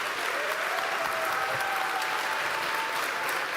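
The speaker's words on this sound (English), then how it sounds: "can we give them a round of applause?" Audience applause fills a conference hall at App.js Conf 2025, a steady, dense wash of clapping that holds evenly from start to finish with no voices breaking through.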